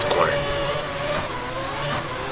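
A Lotus-Renault race car engine at Spa in a racing video game, a steady, high-revving drone with pitch sweeps as it shifts. It runs throughout the clip, mixed with faint tire noise.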